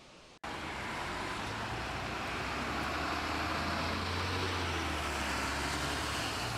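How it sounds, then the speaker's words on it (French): Steady ambient street traffic rumbles continuously, a broad wash of passing cars and road noise at a moderate distance. "on va commencer avec un son ambiant de circulation"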